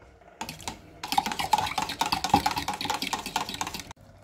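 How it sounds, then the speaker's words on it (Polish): A spoon scrapes and clatters steadily against the inside of a pot of broccoli risotto, a busy, continuous stirring rhythm close by, with no voices. "I znowu dokładnie mieszamy."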